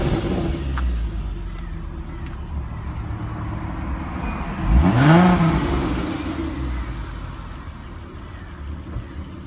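Volkswagen R32 engine running after a fuel pump replacement, a steady low idle that swells into a brief rev and settles back, heard close up.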